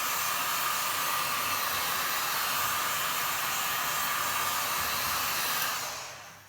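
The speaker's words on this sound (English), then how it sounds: "Now, I'm going to use my heat gun. It's a cheap one from Lidl, but it works well." A cheap Lidl heat gun blows steadily on poured acrylic paint, a loud continuous rushing hiss that runs unbroken for several seconds before cutting off and fading at the end.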